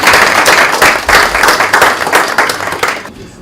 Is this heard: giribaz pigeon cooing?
no